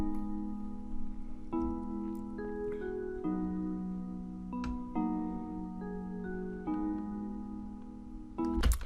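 A soft ambient bell melody loop plays back in FL Studio, built from the Winter Memories sound, with sustained ringing notes that change every second or so over a steady pad-like bed, quiet and with no talking.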